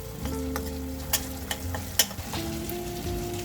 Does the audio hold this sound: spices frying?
yes